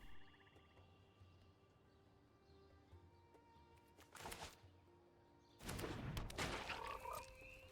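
Frog card played in MTG Arena, faint game effects with croaking frog-like bursts and a brighter rattling flourish near the end, set against quiet ambient tones with no talk.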